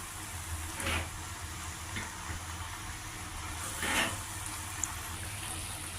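Gram flour and spring onion curry cooks in a pan with a soft, steady sizzle and the occasional scrape of a spoon stirring, quiet and close.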